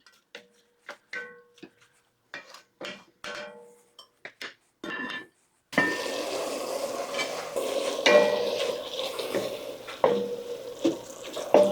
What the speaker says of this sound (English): I want to let this cook until all the vegetables have thawed and the onions have started getting a little translucent